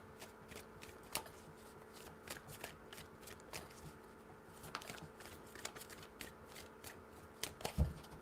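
Tarot cards riffle and flick quietly in repeated short bursts of shuffling, soft and close, with no voices.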